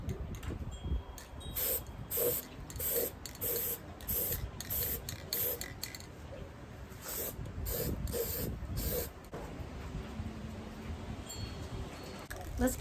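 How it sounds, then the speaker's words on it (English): Short bursts of aerosol spray paint hiss into a glass jar, several quick sprays in an irregular rhythm, close and fairly loud, with brief pauses between them. "And I'm going to spray inside the jar."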